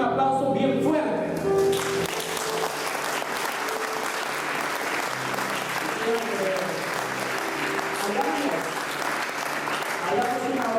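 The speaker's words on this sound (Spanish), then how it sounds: "Y yo quiero que como iglesia la recibamos con un aplauso bien fuerte." A church congregation breaks into strong, sustained applause that fills the room for several seconds, with a few voices and faint music notes mixed under the clapping.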